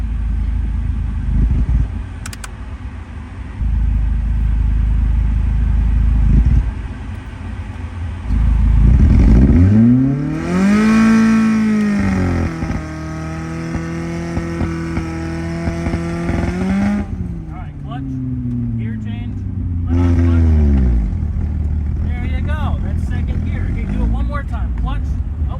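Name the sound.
manual car starting and driving down a road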